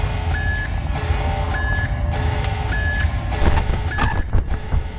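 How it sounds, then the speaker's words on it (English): An alarm sounds in the FNaS 5 Rework video game as a repeated beeping tone, four evenly spaced pulses over a steady background hum, loud and close, with no voices. "When the alarm goes off."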